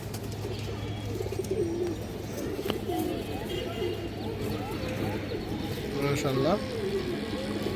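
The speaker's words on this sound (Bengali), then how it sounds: "সিলভার বাগান কবুতর বড় সাইজের একটা নট" A large Silver Bagan pigeon, a male, gives low, throaty coos at a pigeon market, heard close under steady background chatter and someone talking.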